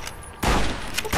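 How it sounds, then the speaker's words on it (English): Rapid gunfire from Fallout: New Vegas, a loud burst of shots starting partway in after a quieter stretch, continuing densely to the end. "You are just firing like a madman"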